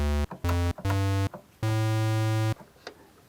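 A deep sub-octave waveform from a Behringer CAT synthesizer plays short stabbing notes, then one longer held low tone, rich in harmonics, with brief gaps of near silence.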